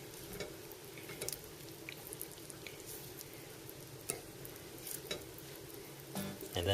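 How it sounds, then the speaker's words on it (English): Cocoa being stirred into a homemade chocolate mixture in a bowl makes a soft, continuous scraping and swishing sound, with a few light ticks and clinks from the utensil. It stays quiet and steady throughout, and nobody speaks. "the cocoa is just getting stirred in"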